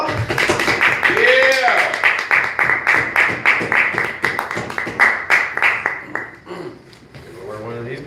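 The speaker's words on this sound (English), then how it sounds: "Give a nice round of applause to Al." An audience claps for a guest at a comedy show, a dense run of quick claps with a shout of encouragement, fading into talk after about six seconds.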